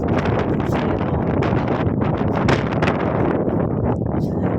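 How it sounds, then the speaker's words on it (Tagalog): Strong wind near a beach in Lusail, Qatar buffets the microphone in a continuous loud roar, gusting and rumbling throughout with no pauses. "Sobrang lakas ng hangin."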